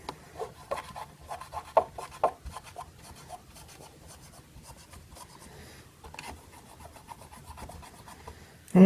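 A Q-tip dipped in Windex scrubs the contacts of an NES cartridge, making soft, close rubbing strokes in short bursts with quiet pauses between them.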